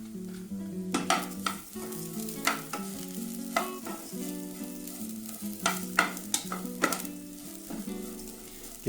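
Rice with onion and garlic being stirred and toasted in a hot pan: a steady sizzle runs throughout, broken by repeated sharp spoon scrapes and clicks against the pan, close and moderately loud.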